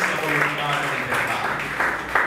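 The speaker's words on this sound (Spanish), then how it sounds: "puedes darle una fuerte ofrenda de aplausos" A church congregation applauds, a continuous patter of clapping from many hands with a voice speaking over it, swelling in short bursts.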